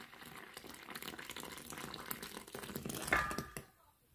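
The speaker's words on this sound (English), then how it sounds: "And now let's pour the yeast mixture." Yeast mixture for pizza dough being poured, a soft, close liquid splash and trickle that builds and then stops abruptly near the end.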